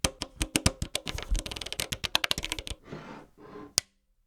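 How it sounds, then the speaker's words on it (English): An Elektron Digitakt synth's buttons are pressed in a quick series of sharp, close clacks and taps, dense and irregular like typing at first, then a softer rustle and one final loud tap before silence. "I love the sound of it typing, so I'm going to try and get some clacks, some taps, and all kinds of whacks in between"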